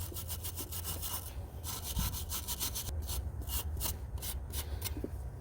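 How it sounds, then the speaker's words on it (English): Stiff wire brush scrubbing the alternator mounting points on a Ford F250/F350 truck, a close, quiet, rhythmic back-and-forth rasping with short strokes. "get a stiff bristle brush, wire brush, sandpaper, something, and clean off all the connection points that the alternator is going to sit on"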